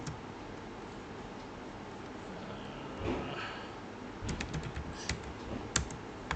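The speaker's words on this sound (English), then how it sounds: "For example, let me type Jaden Thompson." Typing a name on a computer keyboard, soft irregular key taps in a quiet room, sparse at first and then a quicker cluster of clicks toward the end, fairly faint and close.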